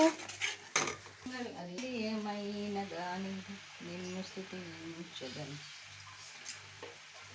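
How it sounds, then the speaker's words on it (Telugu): A pot of paneer masala curry is stirred with curry leaves, a soft scraping and swishing mixed in under a voice that talks and sings throughout. "ఈలోపు కరివేపాకుని కూడా ఇలా వేసుకుని మనం చక్కగా కలిపేసుకుందాము"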